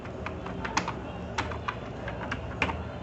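Quick keystrokes on a computer keyboard tap out a short word in an irregular run of light clicks with a few louder strikes, close and quiet over faint background hiss, with no voice.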